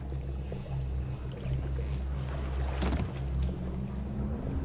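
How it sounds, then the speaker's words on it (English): Water in the underwater city of BioShock Remastered, a steady rushing and trickling wash that runs the whole time, heard alone with no voices. "I like the water effects on the wall over there."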